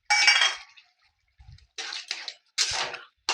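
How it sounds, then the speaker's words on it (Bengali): Fried bitter gourd pieces dropped into a pot of simmering bottle gourd sukto, giving several short wet splashing and sizzling bursts separated by pauses, close and fairly loud. "এবার আমি এই করলাটা, ভাজা করলাটা এর মধ্যে দিয়ে দিচ্ছি"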